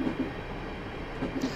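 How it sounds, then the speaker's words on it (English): A Class 150/1 diesel multiple unit coasting with the power idled in Train Simulator 2017, giving a steady low rolling rumble with faint rhythmic wheel clicks and a soft engine hum, no voices. "I'm now going to idle the power at this point just to allow the train to coast"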